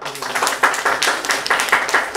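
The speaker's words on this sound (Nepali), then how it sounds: "जोरदार ताली" Loud applause from an audience at a Nepali stage event, thick steady clapping with rhythmic surges rising and falling, with no talk over it.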